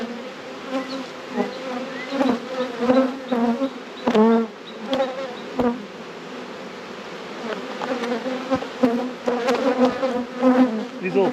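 Honey bees swarm a deep hive opened for its first inspection after winter, their dense, steady buzz filling the air up close, broken by sharp clicks and knocks of frames being handled.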